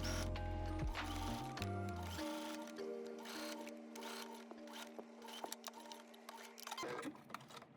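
Sewing machine stitching along the curves of a sleeveless cross-tie summer top, a steady close mechanical whirr that shifts speed in short bursts early on, then runs evenly before stopping near the end.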